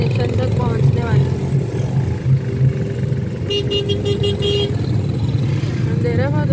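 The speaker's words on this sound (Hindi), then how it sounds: "ट्रैफिक बहुत ज़्यादा है।" Busy road traffic on an evening outing, with a steady roar of cars and motorbikes and a short burst of repeated horn toots partway through, and voices talking over the din.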